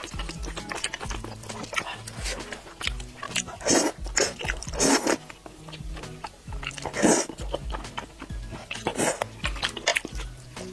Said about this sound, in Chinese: 开始我的嗦面时间。